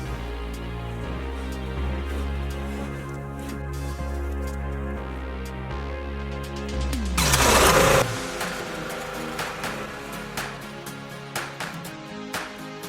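A tractor engine runs steadily while a site is cleared for a greenhouse. There is a constant low drone, a louder surge midway, then a rougher stretch with irregular knocks.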